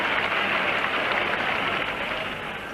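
A large cricket crowd cheers and applauds after a six is hit, a steady, loud roar of clapping and voices that holds evenly and eases slightly toward the end.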